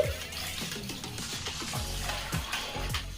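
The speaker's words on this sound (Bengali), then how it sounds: "এক লিটার ফুল ক্রিমযুক্ত দুধ অল্প অল্প করে দুধ আমি এতে অ্যাড করছি" Full cream milk is poured little by little into caramelised sugar in a pan, a close, continuous bubbling and gurgling pour lasting a few seconds with no talking.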